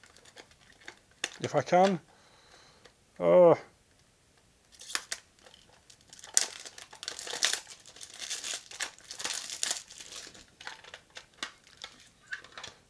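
Plastic wrapping on a German Type 2 chrome cassette tape crinkles and tears in close, irregular bursts after someone speaks briefly, the crackling rustle continuing to the end.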